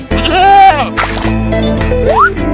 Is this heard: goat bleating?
yes